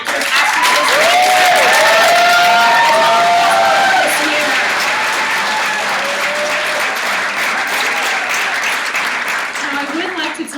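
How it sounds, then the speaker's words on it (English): Audience applauds at a film festival award ceremony in New York City, a loud sustained round of clapping and a few cheers that gradually eases, with voices murmuring through it. "let's give a round of applause to all the writers, directors, actors, actresses"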